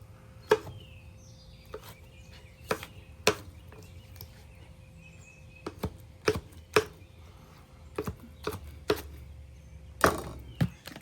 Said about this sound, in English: I'm going to give this a quick chop first, just so we don't sit there and destroy the beef.